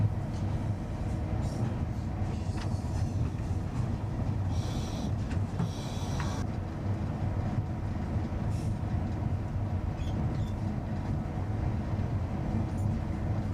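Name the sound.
train running, heard from inside the cab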